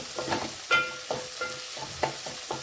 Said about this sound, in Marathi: लसणाची पेस्ट घालायची आणि ती आपण छान ह्याच्यामध्ये मिक्स करून परतून घ्यायची